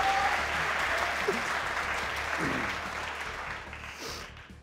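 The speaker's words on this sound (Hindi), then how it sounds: "ताली बजाओ।" A studio audience at a cricket talk show claps steadily, the applause fairly faint and gradually thinning toward the end, with a few scattered louder claps.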